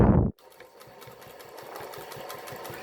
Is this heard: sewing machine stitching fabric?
yes